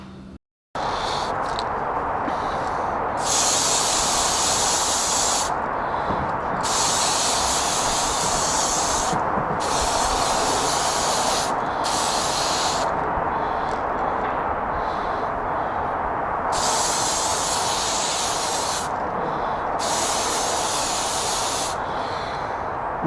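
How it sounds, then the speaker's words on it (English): A can of brown spray paint hisses while colouring a model tree for an O gauge micro railway layout: about eight long, loud, close bursts separated by brief pauses. "So I'm going to get the brown spray and do that."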